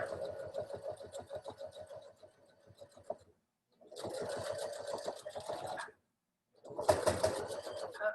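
Sewing machine stitching a stocking seam, running in three steady bursts of rapid rhythmic clatter separated by brief pauses, close and fairly loud with no talk.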